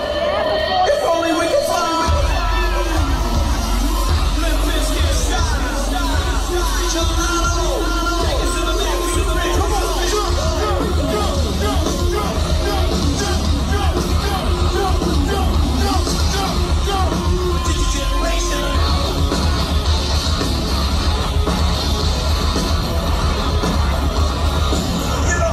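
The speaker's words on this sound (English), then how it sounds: "The crowd was going wild for them. Everyone was singing along" A big festival crowd at Good Things in Brisbane yelling, whooping and singing along, a loud, dense roar of many voices with music thumping underneath throughout.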